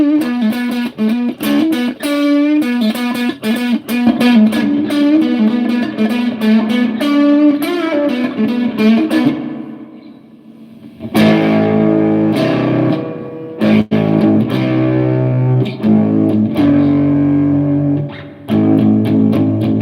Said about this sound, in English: I'm getting more distortion from the drip because it's adding more voltage